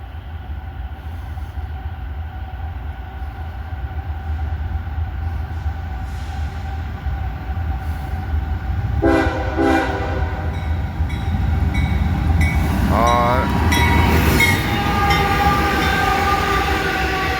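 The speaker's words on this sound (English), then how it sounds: "JB Hunt intermodal train." A JB Hunt intermodal container freight train rumbles past steadily and grows louder, wheels clattering, with a brief high metallic squeal partway through.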